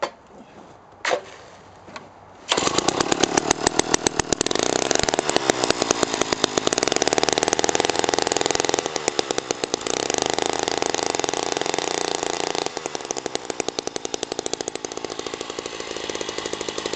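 A Jiffy Stealth ice auger's small engine gets a couple of quick pull-start tugs, then roars to life and runs loud with a fast, rough pulsing rumble, close by, for the rest of the time without any talking.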